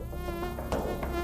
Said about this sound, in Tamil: ஒரு கொசு மேக கூட்டம் என் மேல மழையா பொழிஞ்சுக்கிட்டு இருக்கு